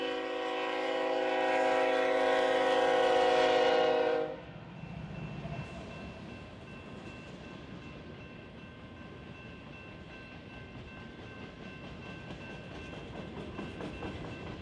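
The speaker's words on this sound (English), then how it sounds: "Hearing a train coming from our west" A train horn blares loudly for several seconds, then gives way to the steady rumble and rattle of a long BNSF freight train rolling past on a mainline.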